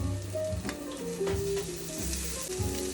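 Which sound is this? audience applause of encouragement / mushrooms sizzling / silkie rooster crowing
mushrooms sizzling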